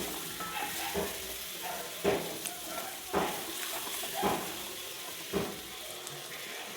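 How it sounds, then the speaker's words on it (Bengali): Spice paste with chili powder sautés in a pan for a fish curry with raw pumpkin, a soft continuous sizzle broken by rhythmic scraping strokes of a spoon about once a second, close and moderate. "একটু লঙ্কার গুঁড়ো দিয়ে এটাকে কষিয়ে নেব।"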